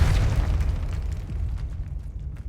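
A Confringo spell explosion in Hogwarts Legacy, a loud booming blast that bursts at once and rumbles away over a couple of seconds.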